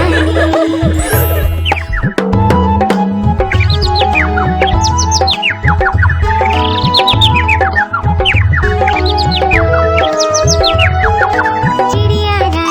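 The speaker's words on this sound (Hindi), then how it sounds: "चू चू करके हमें जगाती" Bird-like chirping tweets woven into a bright, bouncy Hindi children's rhyme about a little sparrow, with a steady musical backing running throughout.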